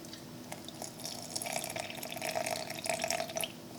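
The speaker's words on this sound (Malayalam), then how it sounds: "തണുത്ത വെള്ളം ഒരല്പം ഒഴിക്കുക" Cold water poured into a butter mixture, a continuous bright splashing trickle of liquid that swells slightly and holds steady for a few seconds, with no voices.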